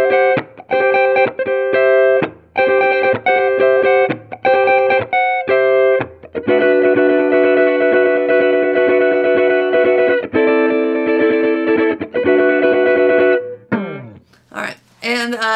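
Music Man StingRay RS electric guitar played clean through the neck pickup: plucked notes and sustained chords with clear harmonic tone, short phrases with pauses, then longer ringing chords and a sliding end, loud and close.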